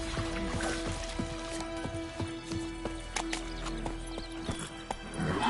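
Roach, the horse in The Witcher 3, gallops with a quick, even hoofbeat rhythm close by, a neigh sounding near the end over a steady game background.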